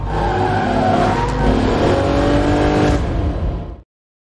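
A car races forward to strike a woman in an action film scene, its engine revving hard as tires squeal and skid, loud and sustained before cutting off abruptly.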